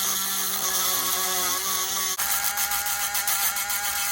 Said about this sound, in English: just take a Dremel and just Dremel the end of it while it's in my wheel tool.